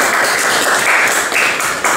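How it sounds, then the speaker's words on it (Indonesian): Classroom applause from a group of students, a steady dense patter of many hands clapping together throughout, fairly loud and continuous with no talk over it. "Tepuk tangan dulu dong"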